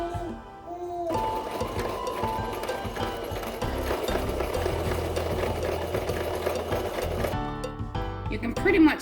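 A home sewing machine runs steadily as it stitches a decorative hem on a stretchy pencil skirt, whirring continuously from near the start for several seconds before slowing and stopping, with light talk over it.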